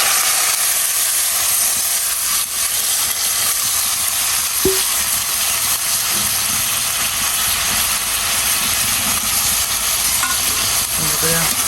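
A curry of jackfruit seeds, eggplant and stems fries in a pan, a loud steady sizzle and hiss heard close up, with occasional faint clinks of stirring.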